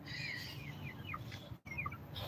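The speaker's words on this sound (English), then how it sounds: "We got our chickens. We finally got a chicken crate." Several chickens cluck and chirp from inside a chicken crate outdoors in Washington State, a steady soft chorus of short rising and falling calls over low background rumble.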